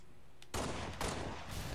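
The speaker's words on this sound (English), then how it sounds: "There we go. Explosion." A blast goes off in the Halo Reach video game, a sudden loud burst followed by a second boom and a rumbling tail, with no voices.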